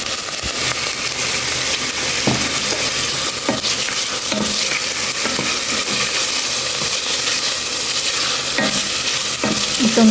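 Beef and onion sizzle loudly in a hot casserole pot, a steady hiss broken by periodic scraping stirs and clanks, with no voices.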